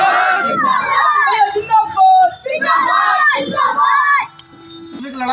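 A Bhim Army rally crowd in Ghatampur shouts and chants slogans in loud, ragged bursts of many voices, pausing briefly between chants before a quieter stretch near the end.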